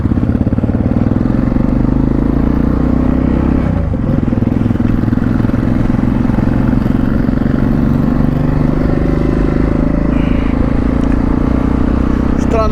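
A motorcycle ridden by a father with a passenger gives a steady, loud engine drone mixed with wind rush and road rumble throughout, with faint voices at times.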